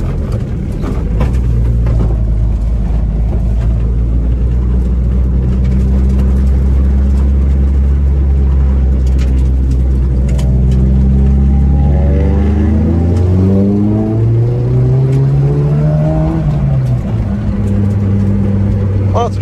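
A car driven slowly along a very muddy, tree-lined track in the Peak District, its engine droning steadily and rising in pitch as it revs, with people talking over the engine noise throughout.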